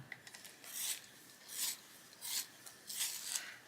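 A plum purple colouring pencil is turned in a small sharpener, giving four or five soft raspy grinding strokes in a steady rhythm, close and fairly quiet, with no talking.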